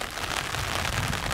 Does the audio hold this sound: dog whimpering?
no